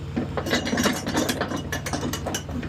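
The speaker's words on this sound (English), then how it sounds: "Once I crank on that, full tightness, same thing again." Ratchet strap cranked tight to secure a load of pavers, a rapid series of close metallic ratchet clicks with a rhythmic pawl clatter, loud and alone.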